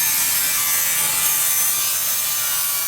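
Steel pieces for an endurance race car being miter cut, a loud, close, continuous grinding, rasping cut that holds steady throughout with no talk.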